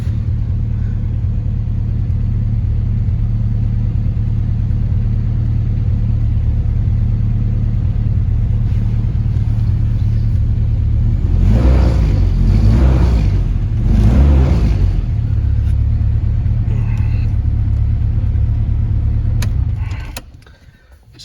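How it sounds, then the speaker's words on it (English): A 1996 Jeep Grand Cherokee ZJ's small 4-cylinder engine rumbles steadily at idle, loud and close, with a couple of brief swells in revving before it cuts off at the end. "this thing's got a nice good little rumble for a 4-cylinder"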